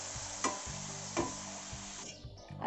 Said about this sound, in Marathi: आता आपण त्याच्यामध्ये टाकणार आहोत हे 1/2 लिटर दूध गरम केलेलं. थोडं थोडं टाकून मिक्स करून घ्यायचं आहे.